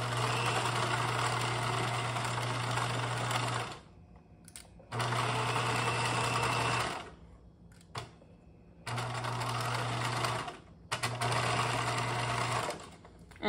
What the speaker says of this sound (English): I'm placing my presser foot right just at the edge of where the fold line would be